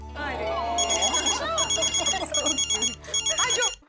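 A telephone rings with an incoming call in a household scene, its bright electronic ring repeating in regular bursts over voices and background music.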